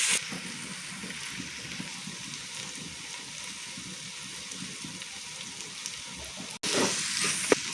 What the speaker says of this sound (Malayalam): അപ്പോൾ ഇത് നന്നായിട്ട് മൂപ്പിച്ചെടുക്കാം നമുക്ക്.